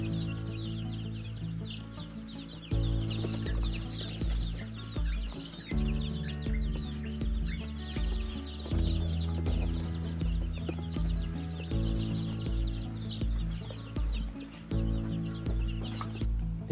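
Chickens on a poultry farm cluck and call almost continuously, nearby and fairly loud, with layered overlapping voices over a steady low background.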